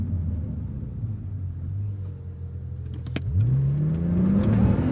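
A 2017 Porsche 911 Turbo S revs up and pulls hard, its engine note climbing steadily in pitch over a low rumble, loud and close from inside the cabin.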